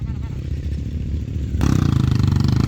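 Motorcycle engines idle and putter close by in a motorcycle parking area on the way to Bromo. The engine noise is loud and continuous and grows harsher and more rhythmic partway through, with a voice speaking over it.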